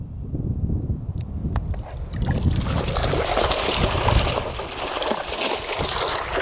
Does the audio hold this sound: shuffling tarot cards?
no